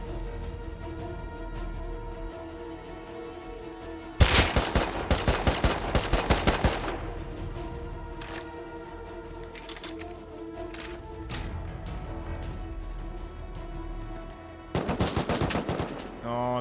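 Bursts of automatic gunfire from a survival shooter game in an underground area, a long rapid volley followed later by a shorter one, loud and sharp over a steady hum of game ambience.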